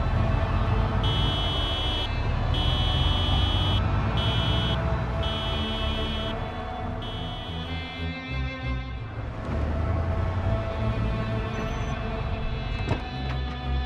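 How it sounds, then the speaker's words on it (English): A car horn in Project Zomboid sounds in a series of sustained honks of varying length over a dense, loud droning background, followed by a stretch of rumbling noise and a faint later tone. "So I honked outside the entrances again"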